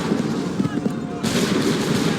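A volley of musket gunfire rings out on an Assassin's Creed III battlefield, a loud, dense burst of shots over a continuous rumble of combat noise.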